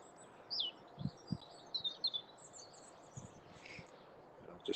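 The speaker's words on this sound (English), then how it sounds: "that's a nice bird sounds anyway" Birds sing at Trentham Gardens at sunset: scattered high chirps and short warbling phrases, fairly distant and soft, over a quiet outdoor hush with a few low bumps nearby.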